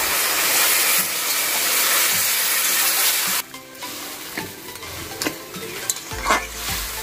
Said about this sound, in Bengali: পরিমাণ মতো জল দিচ্ছি